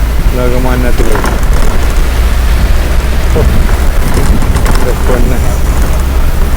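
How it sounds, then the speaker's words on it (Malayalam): Heavy rain pours steadily outside a railway station near Lokmanya Tilak on the Konkan route, a dense constant hiss filling the whole clip while a voice speaks briefly at the start. "നല്ല മഴയാണ്."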